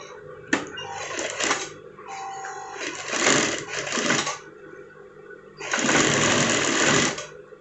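Sewing machine stitching a pocket onto a sweater, running in three separate bursts of steady, fairly close mechanical whirring with short pauses between them.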